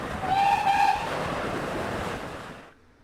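Steam locomotive 3440 City of Truro speeds along the railway beside a river, a loud rushing roar with a brief whistle-like tone near the start, fading out at the end.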